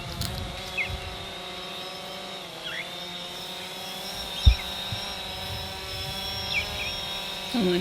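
A drone hovers overhead while a sailing crew is anchored off St. Croix, giving a steady, faint electric whine and hum with occasional small knocks.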